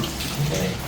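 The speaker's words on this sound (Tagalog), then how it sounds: "Ito naman yung gripo tumutulo siya." Water runs steadily from a leaking, dripping faucet, a close, continuous trickling splash with no talking.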